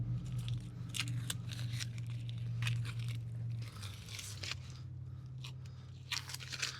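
Masking tape being peeled off a spray-painted van wheel, heard as close crinkly tearing and crackling bursts over a low steady hum, with no voices.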